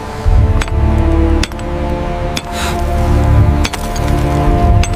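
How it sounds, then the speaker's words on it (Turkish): Hammers striking stone in a rhythmic series of sharp cracking clinks, roughly a blow every second, loud and close over a steady low background murmur. "Her seferinde bir taş kırılarak."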